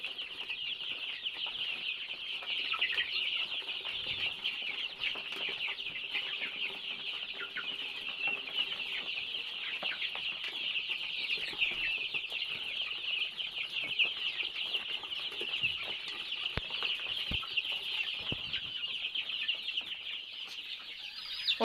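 A dense flock of chicks on a poultry farm raising laying-hen breeds, peeping and clucking continuously in a steady, busy chorus, close and fairly loud, with no talking.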